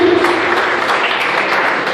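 Sustained applause from a crowd at a church youth service, dense steady clapping filling the room at a loud level, with a faint voice beneath it.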